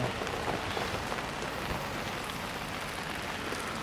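Rain pattering steadily on surfaces in the old town of Omiš, Croatia, a dense continuous hiss of drops with no voices.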